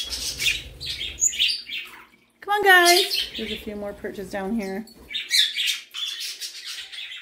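Pet budgies in an indoor cage with wooden perches chirp and squawk in busy bursts, close by, while a person talks over them.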